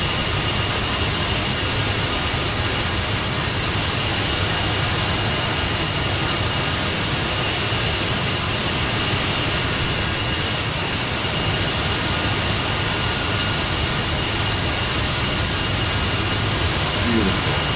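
Aerosoft CRJ jet engines in Microsoft Flight Simulator, a loud, continuous broadband roar with a thin steady high whine running through it, unbroken from start to finish.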